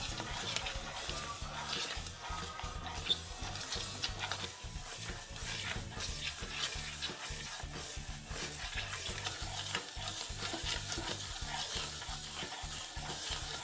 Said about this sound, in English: Take a pan, add your rice grains and slowly roast it on a low flame, stirring continuously until it turns light brown.